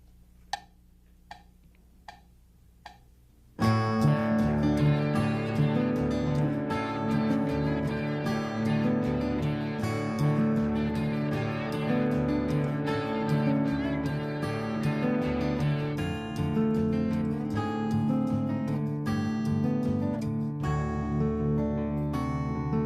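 Acoustic guitar playing the bridge of a song, strummed chords moving from D up to G, starting with a few light ticking taps before full, steady strumming rings out close and loud for most of the passage.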